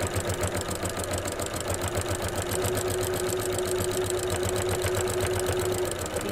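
A home sewing machine runs a straight stitch around the edge of a baby burp cloth, with a steady rapid mechanical whir and needle clatter throughout, close and continuous.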